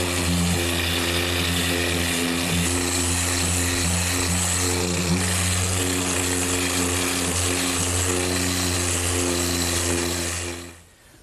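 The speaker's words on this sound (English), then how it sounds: "I'm just going to use my random orbit sander, which is a relatively new tool to the woodworking trade" A random orbit sander running on a wood panel for a box, a loud steady motor hum with a constant droning tone close by, cutting off at the end.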